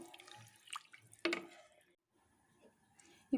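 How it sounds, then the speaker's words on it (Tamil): Coconut milk and chicken stock poured into rice for a country-chicken seeraga samba biryani, giving soft liquid drips and splashes, a brief louder pour in the middle and another at the end, quiet and close. "அடுத்து தேங்காய் பால் இருக்குல்ல அது 2 டம்ளர் ஊற்றிக்கலாம்"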